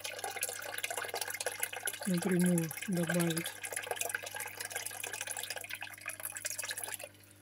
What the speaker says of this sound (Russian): Усиленный слив воды. Вот он пошел.